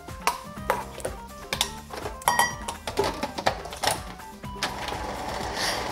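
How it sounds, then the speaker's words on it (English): A food processor's spinning blades chopping potatoes, a loud rapid rattling and clattering with rhythmic mechanical knocks, then a steadier whirring grind toward the end. "Don't put your potatoes into a food processor"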